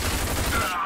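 Dense, rapid gunfire bursts from a weapon in the RAGE video game, loud and continuous for about a second before tailing off.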